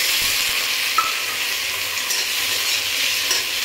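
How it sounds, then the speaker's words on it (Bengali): Onion, garlic and shrimp fry in hot oil with a loud, steady sizzle close by, marked by an occasional light knock of a utensil as the pan is stirred. "একটু নাড়াচাড়া করে নিচ্ছি। আর ধুয়ে রাখা চিংড়ি মাছ"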